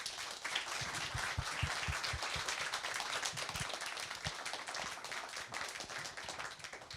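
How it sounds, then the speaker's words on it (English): Audience applause at a public talk on Europe's past and future, a faint, steady patter of many hands clapping together continuously, with no voices over it. "applause, please?"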